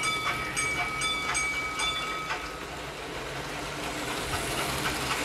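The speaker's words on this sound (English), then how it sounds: "Abby wants a Sum Sum to ride the train." A toy train runs along its track on a tabletop, a steady close rattling clatter with faint repeated clicks, no voices over it.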